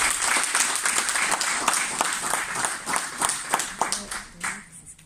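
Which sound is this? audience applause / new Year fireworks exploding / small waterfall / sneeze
audience applause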